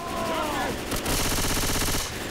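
Rapid automatic gunfire in Left 4 Dead 2, a dense sustained burst of shots that follows a brief rising whine, loud and close with a faint voice underneath.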